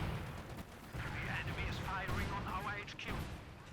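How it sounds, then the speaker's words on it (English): Butterfly bombs from Company of Heroes 2 go off as a rumbling barrage of scattered, overlapping blasts and crackles, heard under a commentator's continuous talk. "We have now the bombs are on the way, the butterfly bombs."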